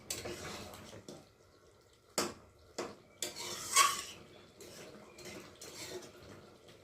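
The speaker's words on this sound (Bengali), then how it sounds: "একটু ভালো করে নেড়ে দিলাম।" A spoon scrapes and knocks against a pan while stirring chicken curry, sparse metallic clinks and scrapes separated by quiet gaps, close by with soft background hiss and no talk.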